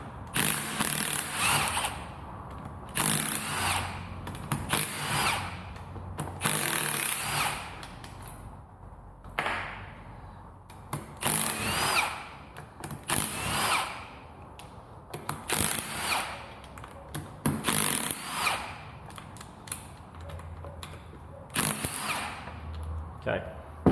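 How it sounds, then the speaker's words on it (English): 12mm head bolts are undone from the top cap of a Lotus Exige S2 C64 gearbox with a power tool, sounding as repeated short whirring bursts separated by brief pauses, close by. "you remove all of the 12mm head bolts around the top cap"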